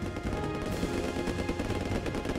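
Gunfire in the video game C&C Red Alert, a muffled, fairly quiet rattle of shots blending into a busy battle din, continuous across the moment with no talking.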